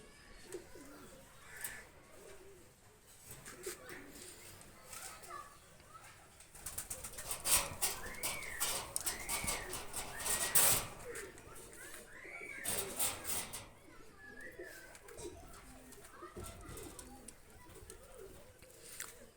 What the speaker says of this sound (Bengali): দুইটা কবুতর ছেড়ে দেখাচ্ছি আমি